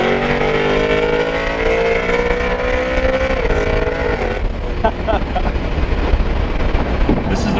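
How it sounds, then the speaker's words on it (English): Supercharged BMW E92 M3 engine revving loudly and steadily, with a sharp blow-off valve whoosh and popping bursts toward the end, close up under a talking voice. "That blow valve is so loud."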